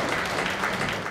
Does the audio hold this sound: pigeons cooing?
no